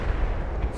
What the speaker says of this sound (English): Complete waste of a rifle grenade, but satisfying.